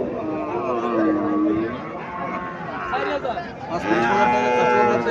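A long-bodied young bull calf at a cattle market in Cumilla moos in drawn-out, wavering calls, loud and near, amid background crowd chatter and market noise.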